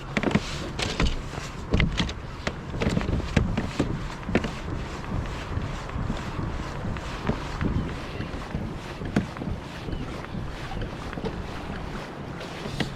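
Bass boats heading out to sea on the ebb tide off Eastbourne, heard from a kayak as a steady broadband engine and water rumble with wind buffeting and intermittent sharp knocks and splashes throughout.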